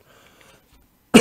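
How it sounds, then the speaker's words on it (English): One short, abrupt cough breaks in at the end after near silence, close and fairly loud. "Got a little cough going on there."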